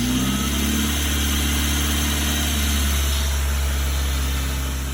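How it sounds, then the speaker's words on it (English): A mid-engined Triumph Spitfire with an upgraded K04 turbo runs steadily up close, a deep droning rumble with a faint airy turbo flutter as the throttle eases off. "the engine sounds really sweet, and you can hear the turbo flutter quite nicely when you lift up the gas"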